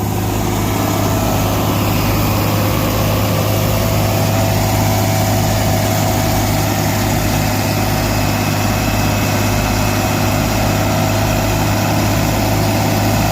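The diesel engine of a 504 tractor warms up and idles, a loud, steady low rumble with a constant pulsing throb that never changes pace, close by and heard alone.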